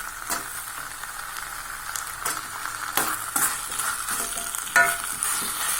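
Potatoes and curry leaves frying and being stirred in a pan for a Tamil-style meal maker kola kulambu, a steady close sizzle with scraping spoon strokes and occasional louder clatters, no talking.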